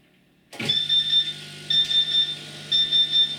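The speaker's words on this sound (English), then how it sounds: "I get that warning message which basically tells me that the water system is not working until the alarm goes quiet" A laser cutter's warning alarm sounds because the water cooling system is off: a loud, steady high-pitched electronic beeping in three repeated pulses over a low machine hum, close up with no talking.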